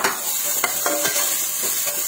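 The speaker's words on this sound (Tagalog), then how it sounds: "Inuna ko lang ang paggisa nitong luya, tapos isinunod ko dito ang bawang at sibuyas." Ginger, then garlic and onion sautéing in a pan for a mung bean dish, a steady close sizzle with a few soft stirring scrapes throughout and no talking.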